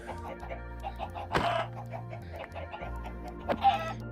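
Chickens in Minecraft cluck in short, repeated clucks near the listener, with a couple of sharper bursts over a low steady background hum.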